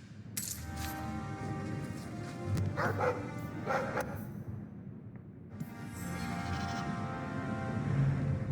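A dog barks in the video game Dragon Age 2, a few sharp barks mixed with coin-like metallic clinks over a continuous game ambience, with no talking.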